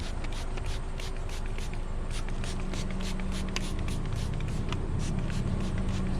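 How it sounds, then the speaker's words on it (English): Soap and water are sprayed along the body of a Chevy Silverado pickup at close range, making a rapid series of short, sharp hissing bursts over a continuous wet background wash. "Spray it alongside the body."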